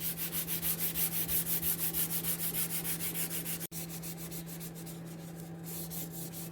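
Filler on a Ford F-150 fender is hand sanded with 400 grit sandpaper on a block, giving close, rhythmic back-and-forth rubbing strokes that stop abruptly partway, leaving a quieter, steady scrape.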